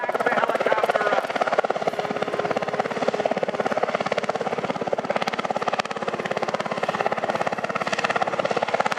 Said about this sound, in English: Pulling back on the stick, he can literally back the helicopter up.